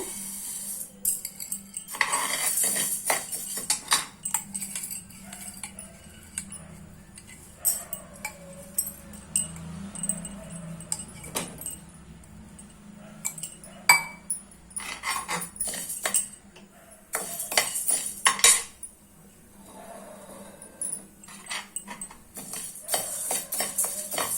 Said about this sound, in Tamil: நல்லா வறுத்தெடுத்துக்கணுங்க.